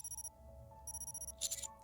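A telephone in the video game Nikke rings in short, regular electronic trills, two bursts separated by a pause, faint and alone.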